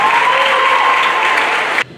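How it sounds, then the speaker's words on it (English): A crowd claps loudly and steadily for about two seconds at an athletic awards ceremony, then the applause cuts off abruptly. "Let's have a round of applause for Sadie Nelson."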